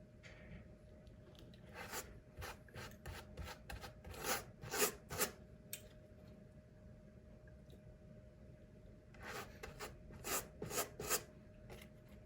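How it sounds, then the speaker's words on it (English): A wet brush paints glue onto HO scale model scenery, making soft, close, irregular scratchy strokes in short bursts with quiet gaps between, over faint background hum. "literally just use a wet brush and I paint the glue on"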